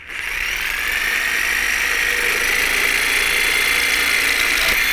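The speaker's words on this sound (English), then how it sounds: "you're just going to cut your dowel with this jigsaw at the places that you've marked" Jigsaw cutting through a wooden dowel, a steady, close, high-pitched buzzing whine that holds evenly throughout without any speech.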